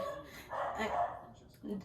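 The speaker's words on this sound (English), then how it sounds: "Just ignore the dog." A dog frightened by fireworks barks a few short, sharp times indoors, with a voice talking over and between the barks.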